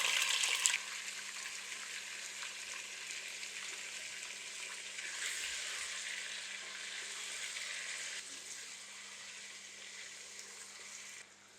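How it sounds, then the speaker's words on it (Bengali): Marinated chicken pieces fry in a pan for Afghani Lahori chicken, a steady hiss and sizzle with a louder burst at the start that settles into an even crackle, no voices. "চিকেনটা একটু ভেজে নিলাম।"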